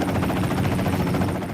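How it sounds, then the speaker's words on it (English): A helicopter drones inside the PlayStation 3 game Haze during a loading screen, a steady low rotor rumble with a fast pulsing throb, continuous and fairly loud. "Every loading screen takes place inside a helicopter."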